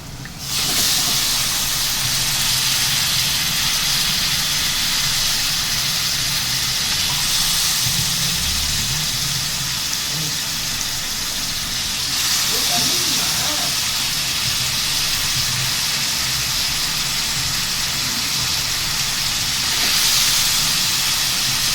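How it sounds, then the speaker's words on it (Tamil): Washed chicken pieces added to a hot pan with sautéed masala for chicken gravy, producing a loud, continuous hissing sizzle that holds steady for over twenty seconds. "இப்போ நம்ம கழுவி க்ளீன் பண்ணி வச்சுருக்க சிக்கனை போட்டுக்கலாம்"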